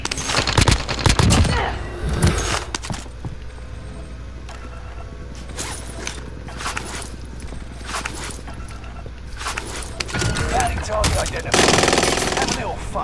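Heavy automatic gunfire and scattered shots in a Call of Duty: Modern Warfare battle, loud bursts clustering at the start and end with sporadic cracks between, mixed with footsteps and gear rustle.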